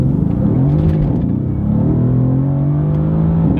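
A Mercedes-AMG C63 S Edition 1 with a 4-liter bi-turbo V8 pulling hard from a standstill, its engine note climbing steadily and loud with a brief dip between gears, heard close and alone.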